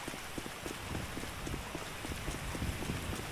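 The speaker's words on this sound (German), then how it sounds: "Fängt das mal an zu regnen?" Steady rain patters down in the video game GTA V, a dense continuous hiss of drops on surfaces with scattered taps, alone and fairly close as a storm begins.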